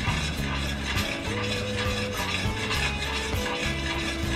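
A pot of sugar brittle mixture cooking toward amber is stirred continuously, with close scraping and rubbing under a loud steady layer of tonal hum and sizzle.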